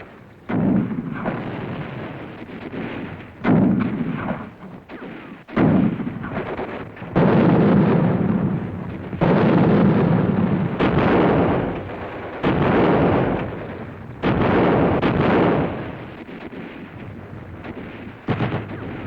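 Mortar and machine-gun crossfire in a WWII battle at Mount Belvedere, a dense, continuous din of loud bursts and booming impacts that rises and falls in waves, with no speech over it.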